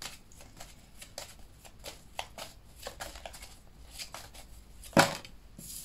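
Lenormand cards being shuffled for a reading, a steady run of quick papery riffles and slaps up close, ending with a sharper snap.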